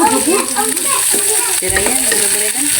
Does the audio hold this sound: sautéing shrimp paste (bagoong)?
yes